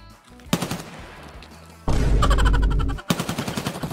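Video game gunfire in a multiplayer lobby at an interchange: loud bursts of rapid automatic shots in rhythmic volleys, close and sharp, with brief pauses between them.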